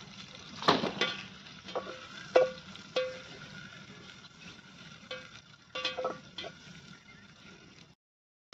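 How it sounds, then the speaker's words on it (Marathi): Chopped onion sizzles in hot oil in a cooking pot at a rural homestead, a steady close frying hiss broken by a few sharp clanks and scrapes of stirring. "आता तेलात कांदा मस्तपैकी तळून घ्यायचा"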